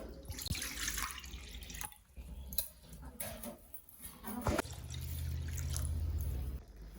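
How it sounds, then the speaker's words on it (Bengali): Water is poured into a karahi on the stove while cooking a bharta with bean pods, a continuous splashing rush that swells louder toward the end among kitchen clatter. "দিয়ে দিচ্ছি জল"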